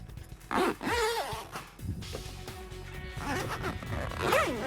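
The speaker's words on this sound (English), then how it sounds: "And then just zip in your window." A window is zipped into a Bestop Supertop soft top on a 1997–2006 Jeep Wrangler TJ. Several close, loud zipper runs rasp in quick succession, with no talk.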